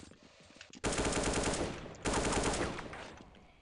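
Two loud bursts of rapid automatic Colt rifle fire in Counter-Strike, each lasting over a second, with a quieter, muffled rumble of gameplay between and after.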